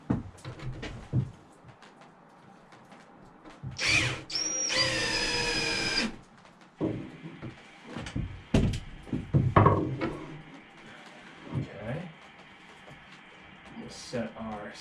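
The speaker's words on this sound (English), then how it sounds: "I'm quite alright with just putting a couple screws in the board." A power drill drives a couple of screws into a board, with one sustained whining burst in the middle among shorter tool clicks and knocks, close by, with people talking around it.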